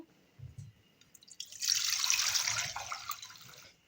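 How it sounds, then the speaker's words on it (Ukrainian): Liquid pours steadily into a pot after a couple of light clinks, a continuous splashing stream of broth that tapers off near the end. "Тепер бульйон переливаю знову ж у каструльку"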